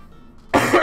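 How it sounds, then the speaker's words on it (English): A single sharp cough from a player during a tabletop Dungeons & Dragons session, loud and close, following a quiet moment. "As I cough a little bit more."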